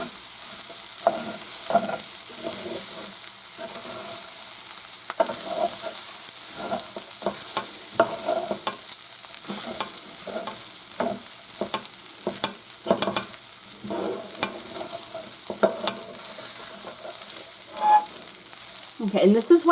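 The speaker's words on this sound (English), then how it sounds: "I'm going to stir this. Make sure we can see all of our veg." Chicken fried rice with vegetables being stirred in a large pan, a continuous sizzle of frying with scraping and tossing strokes throughout, close and fairly loud with no voices.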